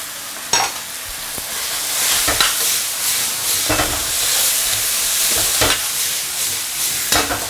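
Wood ear mushroom and celtuce strips being stir-fried in a hot wok for fish-fragrant shredded pork: steady loud sizzling with repeated sharp scrapes and clanks of the spatula, no talking.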